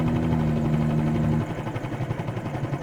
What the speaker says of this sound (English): Get the aircraft shut down